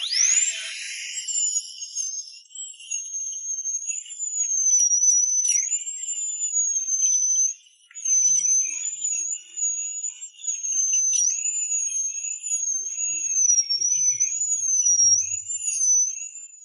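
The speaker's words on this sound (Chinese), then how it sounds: "直接上钻头先把腐质去掉" A high-pitched dental drill whines steadily while removing decay from a cavity between two front teeth, its pitch wavering slightly as it cuts, close and loud with brief dips in load.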